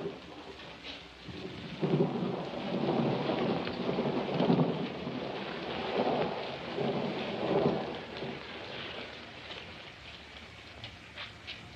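A thunderstorm with heavy rain pours steadily while several deep rolls of thunder swell and fade one after another, loud and rumbling, with no voices over it.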